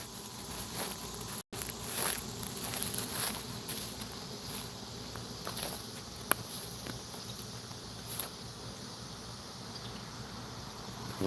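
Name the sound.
swarm of honey bees buzzing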